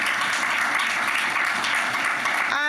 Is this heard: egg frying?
no